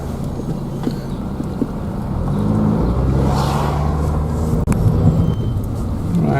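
A Citroen Saxo accelerating along a road, heard from inside with a steady engine drone rising in strength, wind and road rumble under it, and one sharp knock partway through.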